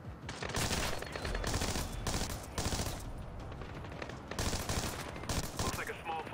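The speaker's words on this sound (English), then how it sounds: "I should probably switch to frag grenades and pull out my machine gun" Machine gun fire in Splinter Cell Blacklist, several dense bursts of rapid shots in quick succession, loud and close, with brief pauses between them.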